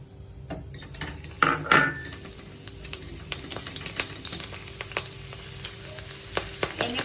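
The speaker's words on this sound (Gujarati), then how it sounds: "હવે આપણે મરચા તળી લઈશું" Chillies sizzle and crackle in hot oil while making corn flakes chivda, with sharp clinks and scrapes of a spoon against the pan.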